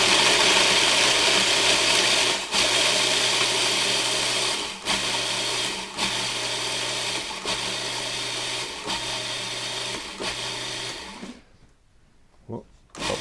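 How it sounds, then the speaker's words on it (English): A food processor pulses sugar into crumbs in a steady run of loud, even bursts with brief gaps between them, then the motor stops and the kitchen goes quieter. "And then I'm gonna pulse that until get down to crumbs."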